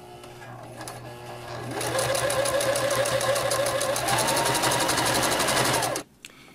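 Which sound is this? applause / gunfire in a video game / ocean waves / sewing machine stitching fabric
sewing machine stitching fabric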